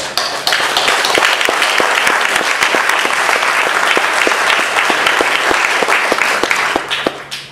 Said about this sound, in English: I have to give a round of applause to the performance performing that.